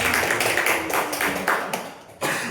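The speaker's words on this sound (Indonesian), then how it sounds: "Kita beri aplaus dulu dong buat Bu Fitri." Several people clap in applause for Bu Fitri during a teacher training session, with uneven repeated claps that rise loudly, fade, then return briefly at the end.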